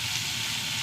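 Mustard seeds sizzling in hot oil, a steady close crackling hiss filling the whole short moment without pause.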